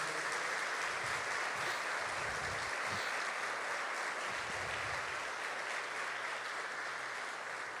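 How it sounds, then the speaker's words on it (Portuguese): A church congregation applauds loudly during a Portuguese-language prayer service, a steady wash of clapping held at an even level for the whole stretch. "Aplauda Jesus então bem forte, se você crê."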